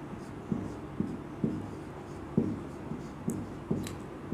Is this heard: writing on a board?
yes